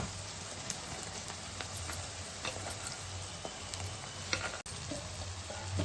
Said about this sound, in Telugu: ఉల్లిపాయలు మగ్గిన తర్వాత 2 టమాటాలు కట్ చేసి వేసుకుందాం.